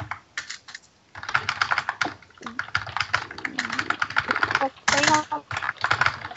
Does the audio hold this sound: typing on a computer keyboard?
yes